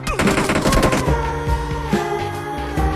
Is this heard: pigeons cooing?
no